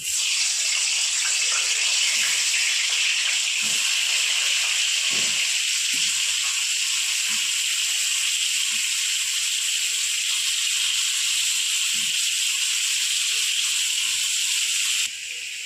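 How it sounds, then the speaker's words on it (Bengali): Pieces of pointed gourd sizzle in hot oil, a loud continuous hiss of frying with a few soft knocks beneath it. "আমি এক এক করে পটলগুলো ছেড়ে লাল করে ভেজে নেব"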